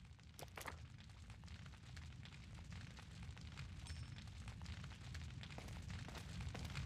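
Fire grenades erupting in Resident Evil 4 on the Wii, a dense rumbling roar of flame and low booms with sharp crackling pops scattered throughout, steady and loud for the whole stretch with no talk.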